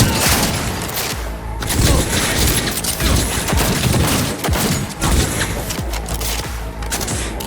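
Dense, loud rapid gunfire from a firefight in the Cyberpunk 2077 video game, with overlapping bursts and booming shots crackling continuously, plus some voices under the shooting.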